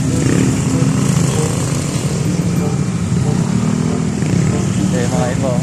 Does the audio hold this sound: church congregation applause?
no